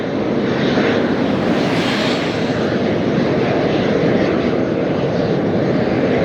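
Heavy jet aircraft landing in strong crosswind at Las Vegas, a loud continuous engine roar with broadband rushing wind noise, steady throughout with no speech.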